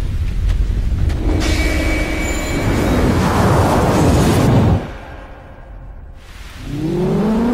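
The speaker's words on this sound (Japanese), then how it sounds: "地震。" Deep earthquake rumble in the horror video game Forbidden Siren, a loud sustained low roar with crackling debris that swells, cuts off abruptly into near silence, then returns with rising tonal sweeps.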